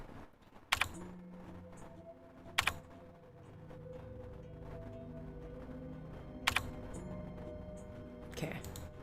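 Keys clack in short bursts on a computer keyboard in a Nancy Drew mystery game, a few sharp isolated taps standing out over a low background hum.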